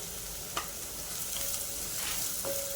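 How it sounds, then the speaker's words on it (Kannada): Herbal hair oil paste fries in hot oil in a pan until golden brown, a quiet steady sizzle with a few soft stirring scrapes close by; no talking. "ಇದನ್ನು ಗೋಲ್ಡನ್ ಬ್ರೌನ್ ಕಲರ್ ಬರೋವರೆಗೂ ನೀವು ಚೆನ್ನಾಗಿ ಕುದಿಸ್ಬೇಕಾಗತ್ತೆ."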